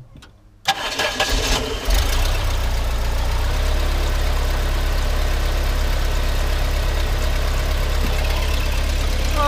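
A Chrysler Le Baron's 2.5-litre turbocharged engine with a Garrett turbo cranks and catches, then settles into a loud, steady, close idle with a low rumble and faint whistle, slightly blowing by somewhere.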